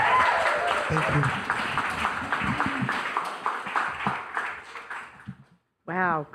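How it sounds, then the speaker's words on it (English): Sustained applause from a crowd fills several seconds, fading out before a voice begins speaking at the end. "Give another applause"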